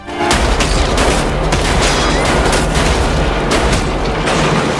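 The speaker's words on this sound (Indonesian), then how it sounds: "tiba-tiba Kayoko menembak Sugimura" Loud gunfire from the film Battle Royale, a dense burst of sharp shots and booming blasts that runs continuously and close for about five seconds, with no voices.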